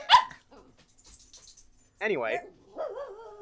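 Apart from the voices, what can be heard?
dog barking during a podcast recording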